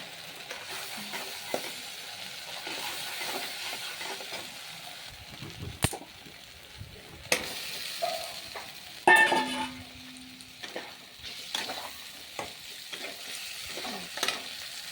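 Pointed gourd and potato sauté with ground ginger, cumin and chilli pastes, turmeric and chilli powder, making a soft continuous sizzle punctuated by occasional spatula scrapes and knocks against the pan, close and moderately loud.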